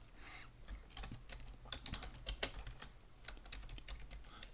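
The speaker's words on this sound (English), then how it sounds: "you've got to do the typing over here" Typing on a computer keyboard, a steady run of sharp key clicks with a few louder strokes, close up and without speech.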